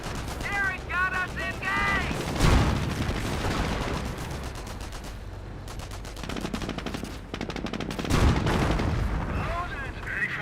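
Gunfire from snipers and other weapons in a Company of Heroes battle against Volksgrenadiers, with rapid bursts and heavy booming shots layered under continuous excited talk and other game sounds.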